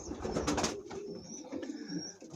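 Pigeons coo in low, soft murmuring bursts, fairly near and steady, with faint rustling and background noise around them.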